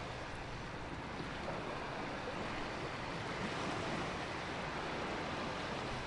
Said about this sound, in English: the sound of waves hitting the rocks